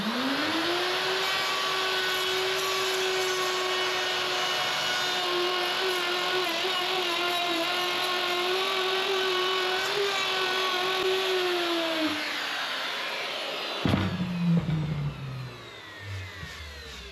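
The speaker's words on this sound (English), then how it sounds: "Okay, time to route." A router cuts plywood panels for a woodshop air wall, running as a loud, steady high whine with a sustained pitch for about twelve seconds, then spinning down and sliding lower as the motor slows.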